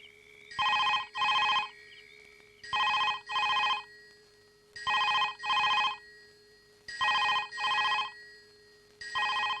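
A telephone in another room rings in a Malayalam comedy scene, sounding loud paired bursts of ringing separated by short pauses, repeating about five times, with no talk over it.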